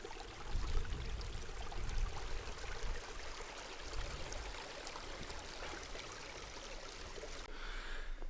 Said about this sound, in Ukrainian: Ось цей струмок, який ви видали з дрона.